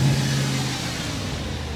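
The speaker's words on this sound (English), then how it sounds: "You just heard the RS4. It sounds like a beast." An Audi RS4 with a 4.2-litre V8 and 150,000 miles, freshly carbon cleaned with new injectors, revs loudly nearby, a full rumbling roar that holds and then settles.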